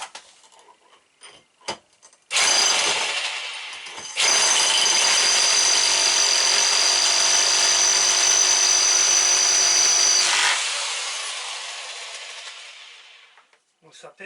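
A Power Plus hammer drill fitted with a 12 mm bit bores into a concrete block, a loud sustained grinding whir that starts after a few faint knocks, steadies, then winds down and stops.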